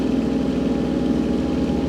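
An Iseki TLE3400 compact tractor engine runs steadily at high, even revs driving a finishing mower, a loud continuous mechanical drone with a low rhythmic pulse and no voices.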